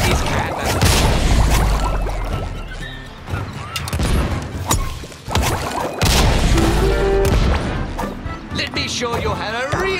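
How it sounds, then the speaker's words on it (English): Pirate cannons fire in the SpongeBob SquarePants: The Cosmic Shake video game, with loud booms and crashing impacts over busy game sound and music, and voices mixed in. "Show you how a real pirate uses these cannons."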